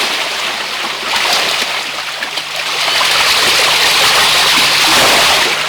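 The Kapila River rushes loudly and close by beside a temple, a continuous broad steady hiss with no voices.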